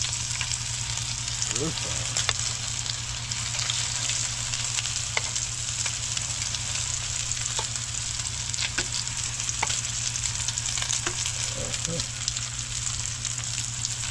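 Food fries in hot, smoking cooking oil (manteca) in a pan, giving a steady close sizzle and crackle with occasional sharper pops and light stirring, without pause throughout.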